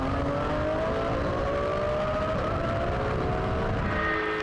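A pack of 485 hp Porsche 911 GT3 Cup race cars roaring at a rolling start at Le Mans, a dense, loud, sustained engine drone with rising tones as the field accelerates.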